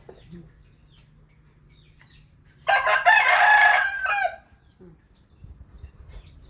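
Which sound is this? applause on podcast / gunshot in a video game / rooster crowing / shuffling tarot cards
rooster crowing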